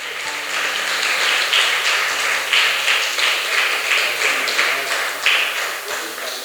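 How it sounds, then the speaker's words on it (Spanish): Church congregation clapping through a sermon, a dense steady patter of applause lasting several seconds with a voice faintly under it. "Dele un aplauso al Señor, hermano."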